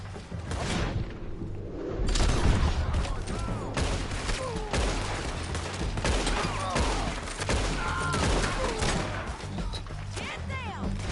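Red Dead Redemption 2 shootout: rapid volleys of gunshots and impacts crackling throughout, fairly loud and sustained, with voices calling out between bursts.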